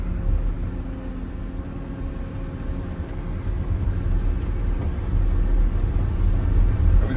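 The diesel engine of a large snow machine rumbles low and steady as it drives, slowly growing louder and heavier as the throttle wheel speeds it up, with no talk over it.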